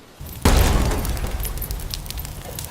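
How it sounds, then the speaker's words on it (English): A sudden loud explosion booms up close, engulfing a car, followed by a roaring, crackling rush of flames that stays dense and noisy. "suddenly an explosive sound surrounded the car with flames"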